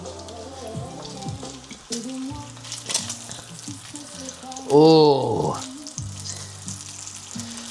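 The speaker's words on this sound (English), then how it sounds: "Sizzling your bacon in a skillet also hits differently." Bacon sizzles in a skillet with a steady frying crackle that swells into a loud hiss partway through. A voice briefly exclaims.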